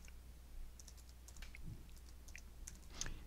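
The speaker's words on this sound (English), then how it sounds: "So I'm going to type in restaurants" Soft keystrokes tap on a computer keyboard, a faint, irregular run of light clicks over a steady low hum while a search for restaurants is entered.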